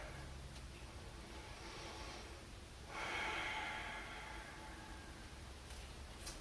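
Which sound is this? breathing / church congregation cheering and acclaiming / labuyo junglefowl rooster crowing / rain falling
breathing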